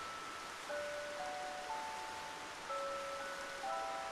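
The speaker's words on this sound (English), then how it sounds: "How could you not have it raining when you have this scene?" Steady soft hiss of rain falling in the video game Xenoblade Chronicles, continuous and even throughout, with faint sustained musical tones drifting above it.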